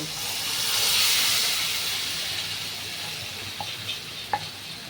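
Fish frying in a pan with curry leaves, a loud broad hiss and sizzle that swells early and then settles, with a few soft clicks and pops near the end.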